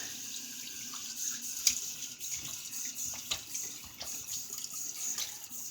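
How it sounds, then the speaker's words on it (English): Tap water running over the outside of a glass jar at a bathroom sink, a soft continuous splashing with small knocks and clinks of the glass, fairly quiet. "let me just rinse the outside of this glass jar"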